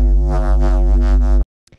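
A thick, buzzing bass sample processed through a granular synth holds one dense note for just over a second, then stops sharply, followed by a couple of faint clicks.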